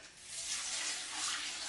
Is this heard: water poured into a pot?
yes